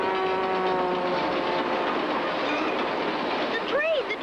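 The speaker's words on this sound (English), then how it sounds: "The train! The train!" A train passes close by in a loud continuous rumble with rail clatter and a steady tonal whine, ending with a brief rising and falling whistle-like tone.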